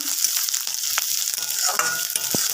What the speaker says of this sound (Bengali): এবার আমি একে একে দিয়ে দিচ্ছি রসুন কুচানো, দিয়ে একটু নেড়ে নেবো, নেড়ে চেড়ে নিচ্ছি